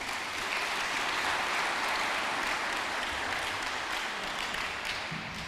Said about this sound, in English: could I get a big round of applause for Joe O'Connell and the team here at Carndullough